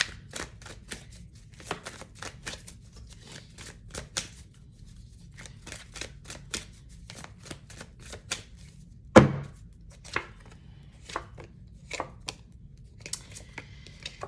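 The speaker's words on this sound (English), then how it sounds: "I'm going to throw the cards out." Tarot cards shuffled by hand up close, a quiet run of soft riffling taps spread evenly over several seconds, with one sharper knock partway through and no talking.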